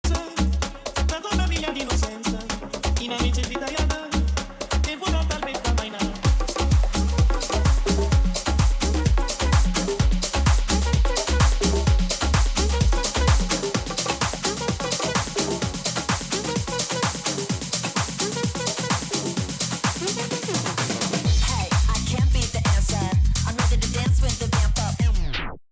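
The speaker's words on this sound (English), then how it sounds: "I'm talking about just your simple standard transition that sounds something like this" A standard DJ transition mixes one dance track into the next, with a loud steady four-on-the-floor beat and bass running throughout before the music cuts off at the end.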